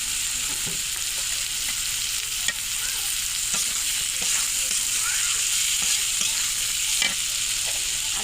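Carrots and mixed vegetables with chilli sizzle steadily in a hot pan, a continuous hiss of frying broken by occasional scrapes and taps of a spoon stirring, close and fairly loud.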